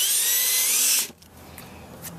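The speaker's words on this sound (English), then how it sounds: "So I'll drill a pilot hole first." A power drill bores a pilot hole into a car body, whining loud and steady for about a second before the bit stops, leaving faint handling noises.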